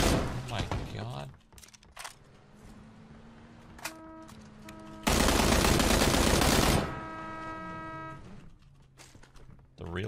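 AK rifle gunfire in the PUBG video game sounds as a loud, dense burst of rapid shots lasting about two seconds midway. Brief sharp shots come earlier, and a voice talks around the shooting.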